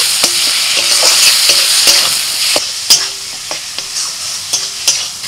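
Spice paste (masala) is stir-fried in a pan, a steady bright sizzle of hot oil broken by repeated scraping strokes and metallic taps of a spatula, close and fairly loud with no talking.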